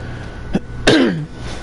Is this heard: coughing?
yes